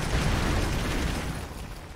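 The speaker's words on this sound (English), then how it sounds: "Let's try to throw a grenade there." A grenade blast in the game Broforce, heard as a loud, dense, rumbling roar that fills the whole clip and fades only slightly toward the end.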